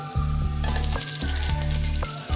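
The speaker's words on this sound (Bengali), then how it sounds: "এবার আমি পেঁয়াজগুলোর মধ্যে দিয়ে দেব" Onions tipped into hot oil with dried red chilies sizzle loudly, a dense crackling fry that surges as they land, with repeated scraping stirs and a low steady rumble underneath.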